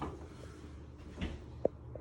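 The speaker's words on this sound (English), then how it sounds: "You close your door." An oven door closes with a single sharp, near thump at the end of a short stretch of quiet kitchen room noise, following a softer earlier knock.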